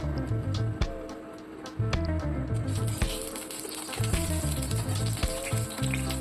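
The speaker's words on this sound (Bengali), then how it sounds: "আগে আমরা পেঁয়াজ আর গাজর কুচিটা দিয়ে দিলাম" Chopped onion and carrot frying in hot oil in a wok, a close, continuous crackling sizzle broken by sharp clatters of a spatula stirring against the pan.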